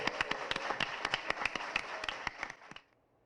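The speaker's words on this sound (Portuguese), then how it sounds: "Uma salva de palmas para o nosso grande clube." Clapping for the Grêmio football club on a Brazilian sports broadcast: a dense, steady run of sharp hand claps for nearly three seconds, then a sudden stop into near silence.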